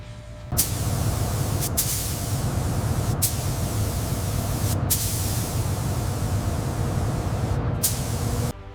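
Spray guns painting the cab of a Peterbilt 379 truck in deep red gloss, a loud steady hissing blast with brief pauses between passes, close by and with no voices.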